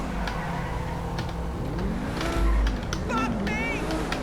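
A Pegassi Tempesta supercar in GTA V roars steadily at high speed, its engine note rising and shifting through revs, with someone talking over it throughout.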